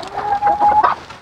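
Chickens cluck in a short burst, a few rising and falling calls close by, with one sustained squawk in the middle and another sharp cluck at the end.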